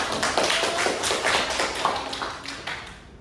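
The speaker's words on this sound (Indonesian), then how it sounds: "Tepuk tangan dong buat teman-temannya" Students in a classroom clap for their classmates, a lively close burst of many hands with a loose rhythm that gradually thins out.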